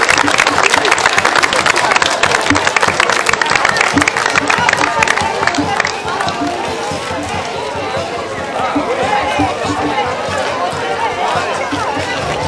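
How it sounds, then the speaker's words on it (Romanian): A dense crowd claps for the Busuiocul folk ensemble from Sântana at a harvest-day folk costume parade, with loud sustained applause and cheering outdoors while an announcer speaks over a public address system. "Haideți să aplaudăm ansamblul Busuiocul din Sântana!"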